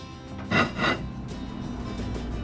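Laing simmering in a pot with coconut milk is smashed and scraped, giving two quick, soft scraping strokes close by, followed by a quiet low background.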